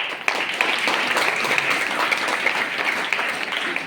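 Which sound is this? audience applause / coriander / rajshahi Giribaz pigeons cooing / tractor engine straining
audience applause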